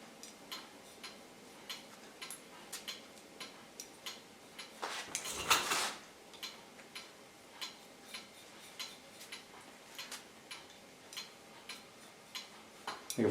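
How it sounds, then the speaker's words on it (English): A knife slices through fine but strong hair during a haircut, giving an evenly spaced series of crisp snips close by, with one louder rustle midway and no talking. "This you can hear because you hear the knife working."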